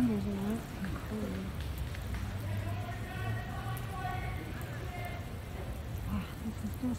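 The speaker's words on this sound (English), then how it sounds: "it is raining" Rain falling outdoors near a hotel during a police standoff in Olympia, Washington, soft steady patter under a quiet, distant background, with a voice briefly speaking at the start.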